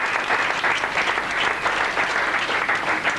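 A church congregation claps loudly and steadily for about three seconds during a prosperity seminar service, a dense, sustained wash of applause with no voices standing out.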